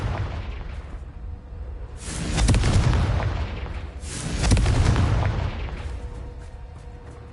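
Confringo fire-spell blasts in Hogwarts Legacy: two loud booming explosions a couple of seconds apart, each a broad roaring burst that swells and fades over a steady low rumble.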